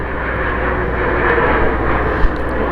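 An airplane coming in to land at Palm Springs International Airport gives a steady, broad engine roar that holds fairly loud throughout, with a brief small knock near the end.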